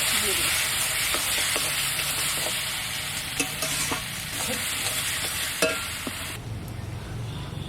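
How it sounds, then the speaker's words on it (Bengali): Onion, ginger, garlic, cumin and coriander frying in mustard oil for a duck meat handi, a steady loud sizzle with scattered scraping and stirring clicks throughout. "পেঁয়াজটা দিয়ে দিচ্ছি আদা রসুন জিরা ধুনে"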